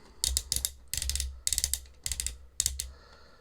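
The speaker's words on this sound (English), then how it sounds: "ratchets in this guy means that it'll probably hold the test of time if you leave it in a pose, but they are very loud" Ratchet joints on a Transformers Missing Link Optimus Prime figure, several bursts of rapid loud clicking in quick clusters with short pauses between, close and alone.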